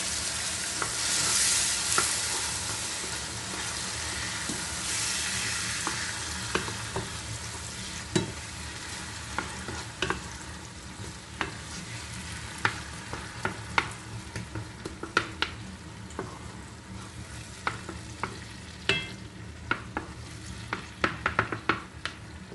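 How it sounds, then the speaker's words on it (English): Chopped tomatoes cook with softened onions for a tilapia stew, a low steady simmering sizzle with scattered light taps and scrapes of a spoon against the pot. "My onions are now soft, so I may add me my chopped tomatoes."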